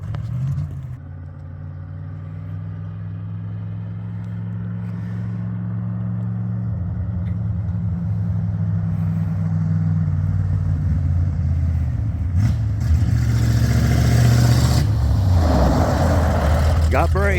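A heavy Ford Bullnose 4x4 truck engine idles low, then its rumble swells and rises in pitch as it revs, loud and close throughout.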